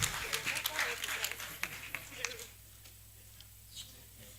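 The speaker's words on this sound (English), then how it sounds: "A round of applause for David Mensah at Accra." Audience applause at an annual New Year school and conference, with scattered claps from a seated crowd that thin out and fade to near silence after a couple of seconds, fairly faint against a background hum and low voices.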